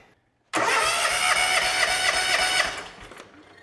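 A John Deere X300 lawn tractor engine cranks over without starting, a loud, close, churning burst lasting about two and a half seconds before winding down, with no talking.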